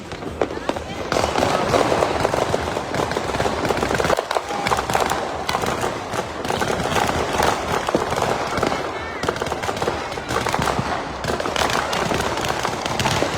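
Dense, continuous crackling and popping of New Year's Eve fireworks in Laguna goes on throughout, with voices talking over the barrage.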